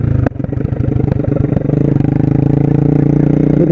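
A 125cc motorcycle engine revs loud and close on a street ride, with rapid pulsing engine clatter and a blip, then settling into a steadier lower drone as it downshifts.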